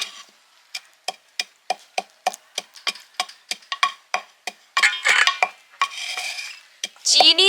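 Sugar and white oil stirred together in a bowl for sponge cake batter, a quick run of sharp regular spoon clinks against the bowl, close and clear, turning into rougher scraping toward the end.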